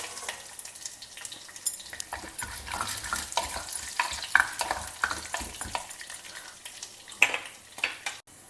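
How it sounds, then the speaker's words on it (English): Green chili, curry leaves and peanuts fry in hot oil, a steady close sizzle broken by scraping stirs and occasional pops, with no voices. "When everything is well fried in oil"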